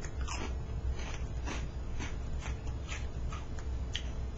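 Crunchy Cheetos-like cheese snacks are bitten and chewed close to the microphone, a steady series of sharp crackling crunches roughly every half second over low background noise, with no talking.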